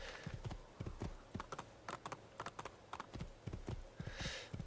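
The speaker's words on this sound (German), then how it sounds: "Nehmen wir ein kleines Pferd, ne?" Horse hooves clip-clopping in the video game Assassin's Creed 2, a steady run of sharp, evenly spaced hoof strikes as the horse gallops across open Tuscan countryside, fairly close and alone without talk, with a brief airy whoosh near the end.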